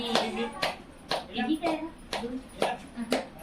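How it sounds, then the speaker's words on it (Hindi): Hands clapping in a casual home setting, a steady series of about eight sharp claps roughly every half second, with voices talking faintly underneath. "ताली बजाओ ताली"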